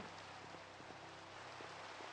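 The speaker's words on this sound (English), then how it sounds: "it looks like we can get rid of this rain." Rain in Minecraft hisses as a dense, even wash of soft patter, faint and steady throughout with no voices.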